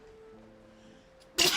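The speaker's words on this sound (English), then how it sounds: "I gotta sneeze" A single sharp, loud sneeze bursts out suddenly after a quiet stretch with faint game music tones in the background, close and abrupt.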